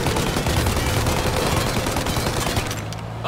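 Dense, continuous rapid gunfire in Mafia Definitive Edition, loud and close, rattling through most of the clip before easing slightly near the end.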